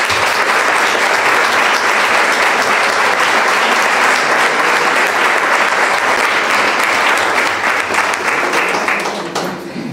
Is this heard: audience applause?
yes